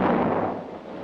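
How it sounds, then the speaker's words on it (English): A single loud, booming report from a towed 155mm howitzer, an M114A1-type heavy gun, opens at full force and rolls into a long, dense decaying rumble that fills the whole moment. "The towed 155mm howitzer proved its combat effectiveness beyond doubt"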